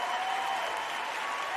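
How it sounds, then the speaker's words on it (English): Applause on a wrestling preview show, a brief even wash of clapping at moderate level with a thin tone running through it. "I gotta give her some proper applause."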